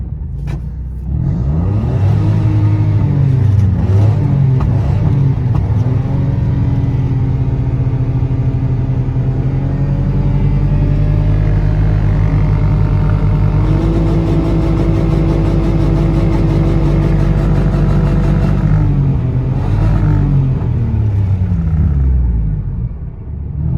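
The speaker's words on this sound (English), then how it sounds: "So let's see what 5th has to offer." A Citroen C1 engine held in fifth gear climbs in revs with a steady loud drone and rising harmonics, rumbling continuously for about twenty seconds before easing off near the end.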